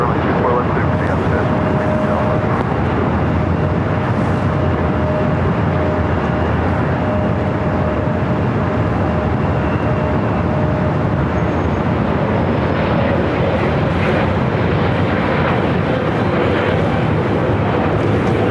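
An airliner takes off from runway 24 left at LAX, producing a loud, unbroken jet roar that fills the whole stretch without letup.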